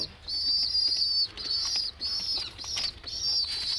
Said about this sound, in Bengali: বাচ্চারা খাবার জন্য পাগল হয়ে গেছে।